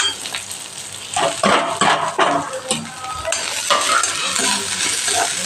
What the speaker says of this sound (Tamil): நல்லா பொரியட்டும் நல்லா ப்ரௌனாக ஆகிடும்